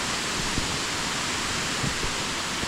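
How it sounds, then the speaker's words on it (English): A burn swollen by rain rushes steadily down to a waterfall near a rocky picnic spot, giving a dense, continuous roar of water close by with no voices. "So we're having rain and the burn is running quite substantially."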